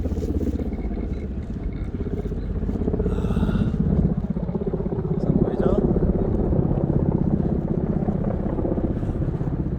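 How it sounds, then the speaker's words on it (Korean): A helicopter's rotor chop thrums through the scene at moderate distance over a mountain valley campsite, with people talking nearby over it. "헬리콥터 소리도 들리고"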